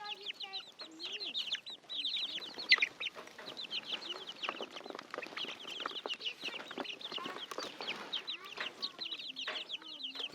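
Backyard homestead chickens cluck and chatter busily together in a dense, close flock, with frequent overlapping calls and a few louder squawks.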